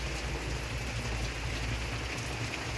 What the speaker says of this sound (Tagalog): ulan dito. Bagyo kasing parating